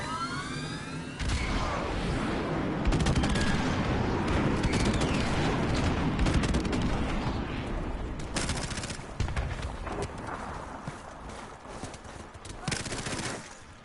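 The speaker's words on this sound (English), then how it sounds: "Friendly airstrike on the way. Airstrike standing by." Call of Duty Modern Warfare Remastered battle with an airstrike: dense, loud bursts of automatic gunfire and booming explosions roll continuously, with a voice speaking over the chaos.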